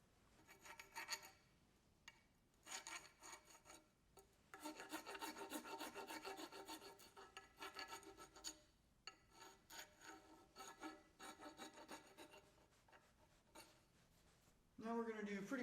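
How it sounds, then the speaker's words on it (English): A wooden axe handle top is worked over with a four-in-hand rasp, giving faint, irregular bursts of dry scraping strokes separated by short pauses, with a louder rub near the end. "just take some sandpaper or the 4-in-hand and just go around the top here and clean up these fibers and little burrs"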